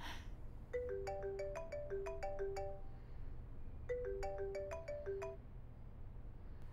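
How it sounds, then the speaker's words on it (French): A mobile phone plays a melodic ringtone: a quick run of bright chiming notes, a short pause, then the same phrase again, clear over a low room hum. "C'est mon téléphone."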